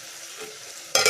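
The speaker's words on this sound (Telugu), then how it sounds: "అలాగే పచ్చిమిర్చి వీటిని బాగా కలుపుకొని కొంచెం ఉప్పేసి వీటిని బాగా కలుపుకుందాం" Green chillies, carrot and potato are stirred in a frying pan for vermicelli upma, a quiet low sizzle that ends in a short, louder burst of scraping and crackle.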